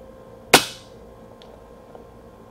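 An FX Impact air rifle fires a single pellet: one sharp, close crack with a brief fading tail, followed by a faint distant tick and quiet.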